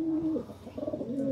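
A golden pigeon gives a short, close cooing call, a soft low warble that rises and falls, heard alone.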